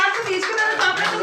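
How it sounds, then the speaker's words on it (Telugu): School children clapping together at a Republic Day gift event, a fairly close, busy patter of many small hands with voices mixed in underneath. "క్లాప్స్ కొట్టండి అందరూ."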